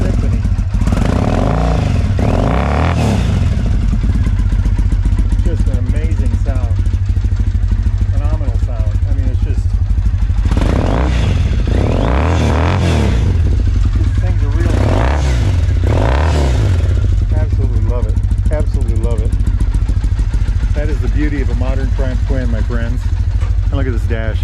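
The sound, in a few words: Triumph motorcycle engine running with British standard pipes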